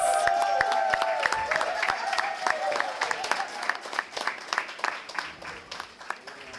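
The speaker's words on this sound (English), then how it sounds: "Give all the teams a round of applause." A game-show audience applauds the competing teams at the close of a sports feud trivia game, a dense burst of clapping that starts loud and full, then thins into scattered individual claps as it fades.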